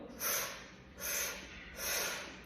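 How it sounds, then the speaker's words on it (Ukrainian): A person doing a breathing exercise draws three short, forceful breaths through the mouth, each a close, loud airy rush with brief pauses between. "Три підвдихи і один потужний видих"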